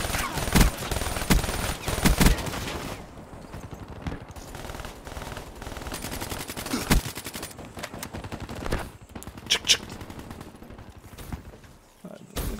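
Rapid automatic gunfire in a Call of Duty Black Ops 3 multiplayer match on the Nuketown map, with repeated bursts and single shots loud up front, then quieter stretches and further volleys, mixed with game effects throughout.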